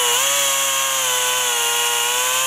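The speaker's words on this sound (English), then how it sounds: "this time with abrasive cartridge rolls, smoothing out imperfections and irregularities" A high-speed rotary porting tool fitted with abrasive cartridge rolls smooths the port of a Norton race engine head, giving a steady, loud whine with a slight dip in pitch partway through.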